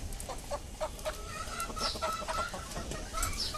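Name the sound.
rooster and chickens clucking on a small farm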